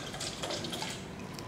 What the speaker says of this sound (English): So I'm pouring the water in